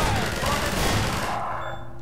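Rapid dense gunfire fills a brief moment in Half-Life 2 played in Garry's Mod, loud and close, then cuts off abruptly near the end.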